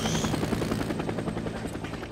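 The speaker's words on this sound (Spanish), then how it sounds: "Persigue el helicóptero de Nero." Helicopter in the video game Days Gone, a steady loud rotor chop with a rhythmic thumping pulse and engine whine, continuous and close throughout.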